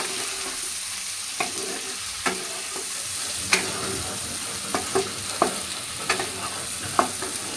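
Prawns stir-fried and tossed through masala in a pan, with a steady background sizzle and scattered scraping clicks of a spatula at irregular intervals.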